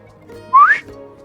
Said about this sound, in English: I'm gonna put my fingers to my lips and whistle.